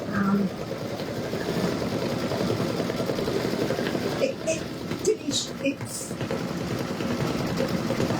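A Brother V5 embroidery machine stitches a penguin parade design for a Christmas hanging sign, its steady mechanical whirr running continuously close by, with a few light clicks and ticks partway through.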